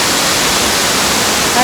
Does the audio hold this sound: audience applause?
no